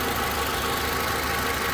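A car engine idles steadily after being started, a dense continuous hum with a faint knocking texture held close and constant throughout, no voices present.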